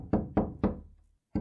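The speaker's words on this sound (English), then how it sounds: "I heard someone banging on my door." Four hard knocks on a door in a video game, three in quick succession and a fourth after a short pause, close, loud and dull, with no voices.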